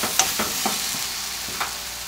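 Fish cake stir-fries in a pan, a soft continuous sizzle with a few light scrapes and taps of the spatula, close and fairly quiet, with no talking.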